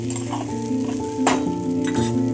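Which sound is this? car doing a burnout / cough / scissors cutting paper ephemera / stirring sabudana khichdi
stirring sabudana khichdi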